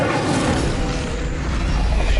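A loud, roaring burst of flame from the Incendio fire spell in a Harry Potter video game, a sustained whooshing blaze filling the whole moment without talk.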